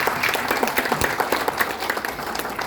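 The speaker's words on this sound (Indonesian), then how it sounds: "Tepuk tangan yang meriah" Lively applause from a seated audience at a seminar on getting out of debt, brisk overlapping clapping at a steady level for a few seconds.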